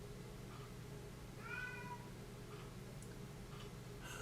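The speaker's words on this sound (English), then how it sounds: "Kind of sounded like my cat just said hello." A house cat meows softly twice at a distance, a short harmonic call near the middle and a fainter one later, over a steady low room hum with no talking.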